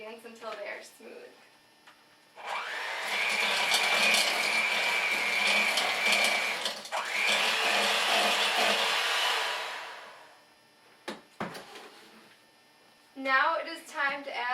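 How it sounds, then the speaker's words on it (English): Electric hand mixer beating cake batter with egg and vanilla until smooth, a steady whirring drone lasting several seconds with a brief pause, with a voice speaking before and after. "I will once again beat these ingredients until they are smooth."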